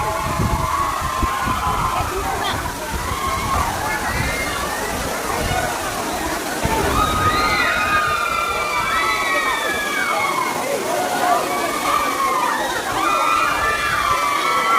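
The Old Courtallam waterfall pours over stepped rocks in a constant loud roar, with a crowd's voices and shouts mixed in throughout.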